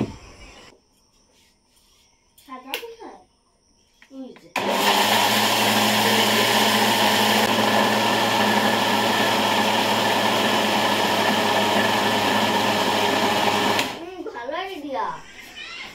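A kitchen blender grinds soaked rice into paste, a loud, steady whirring roar lasting about nine seconds, with a person talking before it starts and after it stops.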